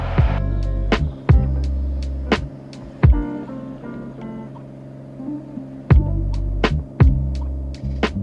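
Cirrus SR22 piston engine at full power during the takeoff roll, a steady loud drone with a strong harmonic hum and periodic thumping pulses throughout.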